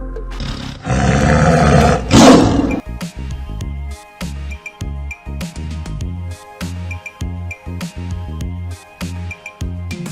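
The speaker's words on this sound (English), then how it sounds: "Tiger. This is tiger." A tiger gives one loud, deep, drawn-out roar that rises and then breaks off, followed by steady rhythmic background music.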